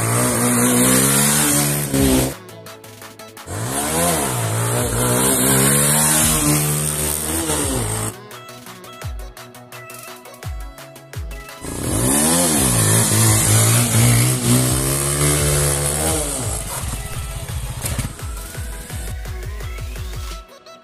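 A motorcycle engine roars loudly and revs up and down in repeated rising and falling bursts, with short gaps where it drops off before revving again.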